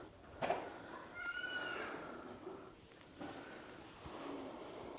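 A cat in a French village gives one soft meow, then a longer, drawn-out higher cry, faint and a little distant over quiet outdoor background noise.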